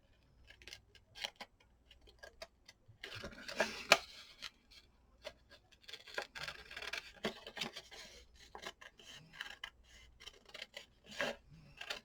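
Scissors snip and rasp around a paper envelope in a quiet room, a close run of short, irregular cutting strokes with brief pauses between them.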